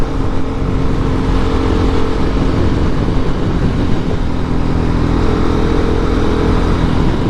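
A 2019 KTM 690 SMCR motorcycle engine runs steadily while being ridden, a loud, close, continuous drone with a rough low rumble and wind noise, holding an even pitch throughout with no talking.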